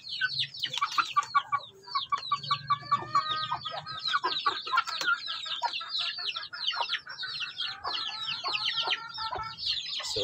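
A flock of two-month-old Rhode Island cross chickens clucks and chirps continuously, with overlapping calls close by and no talking.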